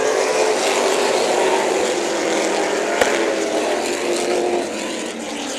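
Late model stock cars race wheel to wheel on the Orange Show Speedway quarter-mile oval, engines roaring loud and continuous as the pack charges into turn one for a 100-lap feature.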